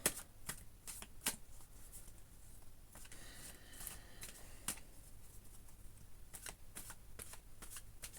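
Oracle cards are shuffled and drawn in a quiet room, giving soft repeated riffling and flicking bursts with brief snaps, close and fairly faint, with no talking.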